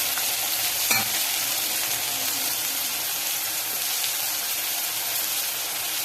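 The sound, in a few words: tomato sautéing in a pan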